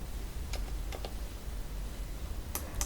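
Sparse key clicks on a computer keyboard during spreadsheet data entry, a few short taps spaced apart and then a quick pair near the end, faint over a steady low hum.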